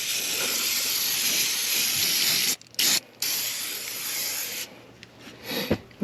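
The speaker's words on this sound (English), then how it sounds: "I'm going to kind of spray this stuff upside down." Tuff Stuff fabric and carpet cleaner sprayed from an upside-down can, a loud continuous aerosol hiss broken by two brief pauses, then sputtering, uneven bursts toward the end.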